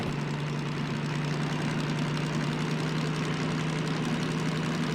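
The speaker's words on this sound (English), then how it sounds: "I kind of like the way the engine sounds." Locomotive diesel engine running in second gear in the Derail Valley train simulator game: a steady, loud, low droning rumble with a constant hum and vibration, unbroken and alone throughout.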